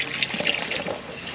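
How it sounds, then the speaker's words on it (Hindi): Clean water runs from a spring in the Dhanaulti hills, a continuous close splashing and gurgling flow with no voices. "और ये है यार, पानी तो आ रहा है, साफ पानी आ रहा"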